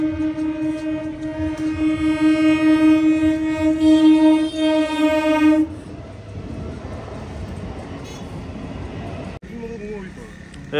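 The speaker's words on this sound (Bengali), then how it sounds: "চলুন, ওই ট্রেন আসছে।" A train passes the railway level crossing at Dhatrigram, its horn blaring loud and sustained for several seconds before the rumble of the wagons continues, with people talking nearby.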